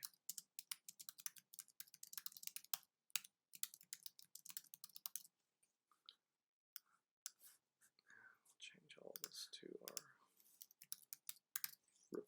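Computer keyboard typing during magazine interior layout work, quick bursts of clicking keystrokes with brief pauses, faint whispery voice traces and a quiet stretch midway.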